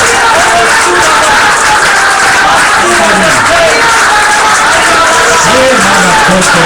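Church congregation applauding in worship, a loud dense wall of clapping and crowd noise throughout, with voices heard over it.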